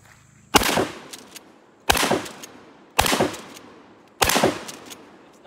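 Four loud, sharp shotgun blasts from a Mossberg 590A1 Mil-Spec pump-action shotgun, evenly spaced about a second apart, each ending in a brief decaying echo, with no talking.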